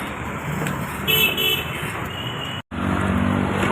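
Dense road traffic passes along a dusty street under construction, a steady loud rumble of cars and motorbikes with horn toots, briefly cutting out before the roar resumes.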